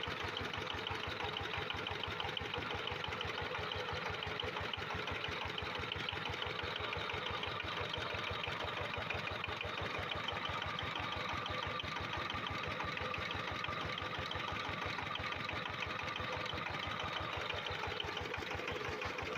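A homemade generator runs steadily and fairly loudly, its engine giving a constant rapid mechanical chatter and hum that never changes. No one speaks over it.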